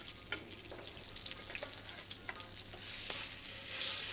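A fish with scored skin, just turned after basting, fries quietly in a pan, a soft even sizzle with scattered faint pops and scrapes and a low steady hum beneath, no speech.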